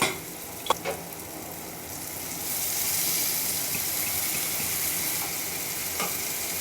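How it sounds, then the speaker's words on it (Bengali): Young jackfruit and potato hitting hot oil and spiced masala in a pan for jackfruit prawn curry, giving a steady broadband sizzle that swells louder midway, with a couple of faint utensil clicks near the start. "এবারে আমরা এঁচোড় এবং আলুটা দিয়ে দেব।"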